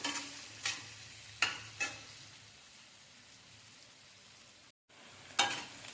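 An onion sautés in a pan until reddish, giving a faint, steady sizzle broken by a few sharp scraping stirs of a spatula, quiet and close with no talk.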